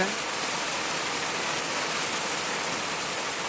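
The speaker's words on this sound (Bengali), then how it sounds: "আজকে সকালে সকালে অনেক বৃষ্টি নামছে" Heavy morning rain pours down in a steady, dense hiss that stays unbroken and fairly even throughout, with no voices over it.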